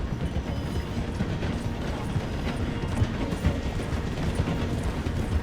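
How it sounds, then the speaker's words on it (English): A train in the video game Red Dead Redemption slows through a station, a steady loud mechanical rattle and rhythmic clatter of wheels and carriages rolling on, without pause, with no talk over it. "The train is slowing down to go through the station."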